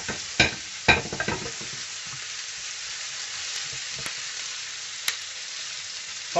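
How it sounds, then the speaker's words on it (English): Vegetables for chicken jalfrezi sizzle steadily in hot oil, with a few sharp scraping clunks of a utensil stirring the pan early on, close and alone. "Get them all coated in the oil."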